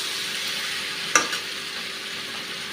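A hilsa fish head fries in spice paste, giving a steady close sizzle with a sharp clatter of stirring partway through, no talking.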